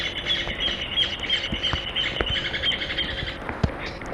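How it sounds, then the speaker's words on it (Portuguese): A small bird chirps in quick, repeated high tweets close by, with scattered louder squawks and soft tapping under a steady background hiss. "Cala a boca, passarinho!"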